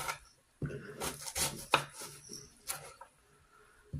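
A knife chops through onion on a board for a Spanish salad, making a handful of close, uneven thuds with crisp edges and short pauses between them.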